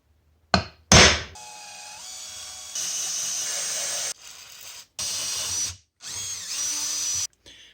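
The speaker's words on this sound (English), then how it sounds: "When you're drilling metal" A power drill bores into a metal knife blank in several bursts of whining spin, separated by short pauses and a couple of sharp knocks at the start, close and loud with no speech.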